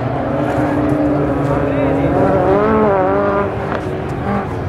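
Rallycross race cars roar through a lap of a B-final at a Kouvola event, engines droning loud and continuous with rising and falling pitch as they pass, while a commentator talks over the noise.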